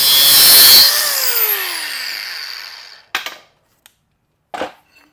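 A power saw cuts a wooden piece to length during assembly, loud and continuous with a descending whine as the blade spins down, then silence broken by a few short knocks and handling clatters.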